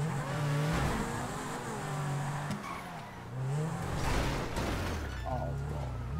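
A car being driven in GTA V revs and accelerates up and down with some tire noise, loud and continuous over several seconds, with voices talking over the engine.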